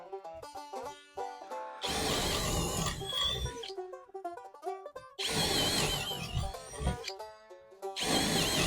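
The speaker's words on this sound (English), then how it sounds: "Try this DeWalt black and gold 3/8 twist bit." A power drill drives a DeWalt black and gold 3/8-inch twist bit through material in two loud, rough bursts of grinding noise, separated by tonal background music.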